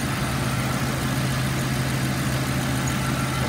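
A 2007 Ford Crown Victoria Police Interceptor engine idles smoothly and steadily with a low, even hum, no revving or voices, just a constant rumble nearby.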